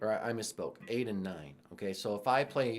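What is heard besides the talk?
No everyday noise stands out behind the speech.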